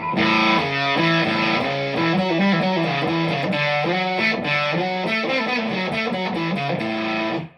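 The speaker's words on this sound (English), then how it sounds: "we can add distortion or sort of deviate from the classics" A distorted electric guitar plays a steady, syncopated New Orleans boogie blues riff with crunchy, sustained tone, loud and close, with no talking.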